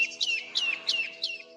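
A song thrush mimics bearded tits with four clear, repeated high pinging chirps spaced evenly, sounding close and distinct over a faint low background hum.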